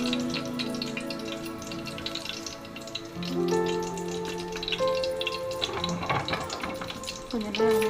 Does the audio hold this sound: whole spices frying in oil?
yes